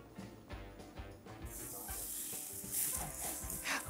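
Meat sizzling on a barbecue grill, a steady hiss that swells louder partway through, with soft clatter and low background noise and no talk.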